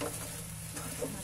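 Sticky biko rice cake stirred in a pan, a soft steady scraping and bubbling sizzle held evenly through a short, continuous stretch with no talk.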